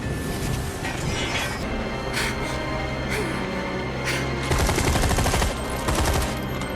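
Heavy automatic gunfire in Final Fantasy 7 Remake, loud and continuous, with rapid machine-gun bursts layered over a low rumbling battle din.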